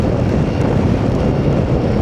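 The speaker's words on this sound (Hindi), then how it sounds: "वो भाई क्या हवा चल रही है यहाँ पे।" Strong wind roars and buffets steadily and loudly throughout a Himalayan 450 motorcycle ride over Zojila Pass in Ladakh in light rain, a dense rushing noise with no other clear sounds.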